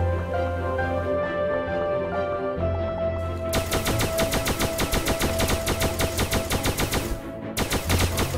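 A gun in the Starbound video game fires at rocks, a loud rapid string of evenly spaced shots starting a few seconds in and hammering on steadily over a droning background.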